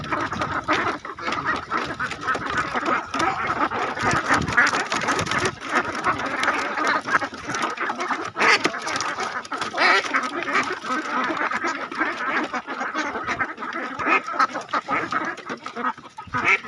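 A large flock of laying ducks quacks continuously outdoors in a field, a dense overlapping chorus of calls that stays fairly even throughout with no talk.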